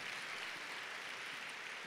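A church congregation applauds in steady, dense clapping that fills the whole moment without a break, with no voices standing out.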